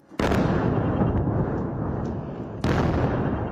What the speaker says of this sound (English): And as night fell, a huge explosion in Beirut.